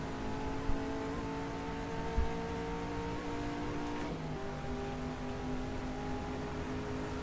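Race car engines droning steadily in the video game GTR2 at the 1964 12 Hours of Reims, a sustained tonal hum with a shift in pitch midway suggesting a gear change, plus a couple of faint knocks.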